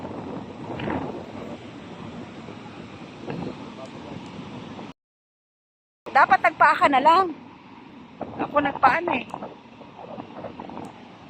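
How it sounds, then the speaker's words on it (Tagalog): Strong seaside wind buffets the microphone in a steady, loud roar on a beach, with people talking over it throughout and a brief dropout midway. "Uy, ang hangin."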